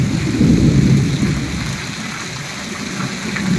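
Heavy thunderstorm rain in Chotila Kalasar, loud and close, with a deep rolling thunder rumble swelling at the start beneath the constant dense hiss of falling water.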